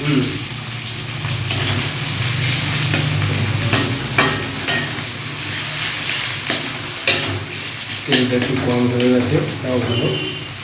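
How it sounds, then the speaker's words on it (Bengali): Onions fry in oil with whole spices for chicken curry, a close, continuous crackle broken by repeated scraping strokes of a stirring spoon, while voices talk over the cooking. "পেঁয়াজটা এখন লাল লাল করে ভাজা হবে"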